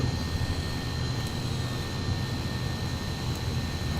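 A Fairey Gannet AS1 aircraft engine in the video game Flight Simulator X runs as a steady, loud droning hum with an even roar that holds unchanged for the whole stretch, with no voices.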